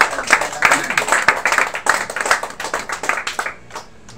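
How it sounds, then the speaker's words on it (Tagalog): A congregation claps together at a church service, a loud, dense run of hand claps that carries on steadily for about three and a half seconds before trailing off into a few scattered claps. "Malakas na palakpak pa."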